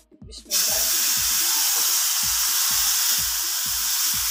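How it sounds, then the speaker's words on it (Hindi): Boiled sugar water poured into a hot pan of halwa bursts into a loud, continuous hissing sizzle after a short quiet start, with rhythmic low thumps from stirring underneath. "अभी जो मेरे पास पानी है, चीनी डाल के मैंने इसको अच्छे से बॉईल कर लिया था, वो इसमें ऐड करूंगी।"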